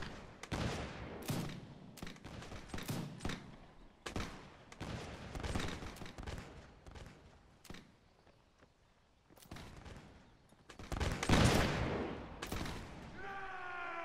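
Musket gunfire in the Mount&Blade video game, scattered sharp reports and volleys cracking out one after another, some near and loud, others more distant, with quieter gaps between shots.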